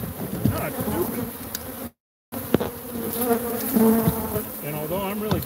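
A beehive holding tens of thousands of bees gives off a loud, dense, continuous buzzing up close, cut by one brief dropout of silence partway through.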